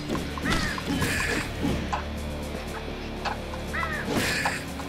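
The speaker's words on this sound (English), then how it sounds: "Go away, you damn birds!" Crows cawing in the video game Slain: harsh calls arrive in several bursts over a constant low rumbling background, with a louder cluster early on and another near the end, close and fairly loud.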